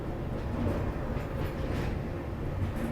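A train rumbles steadily across the Old Naini road-cum-rail bridge, a dense continuous rolling roar with faint rail clatter, heard from on board with no talk.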